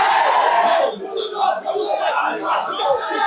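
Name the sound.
students chanting slogans at a protest, Jagannath University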